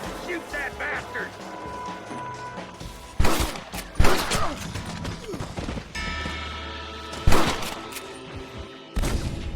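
Red Dead Redemption gunfire in a frontier shootout: several loud separate shots crack out at irregular intervals over background music and noise, with a couple of heavier blasts.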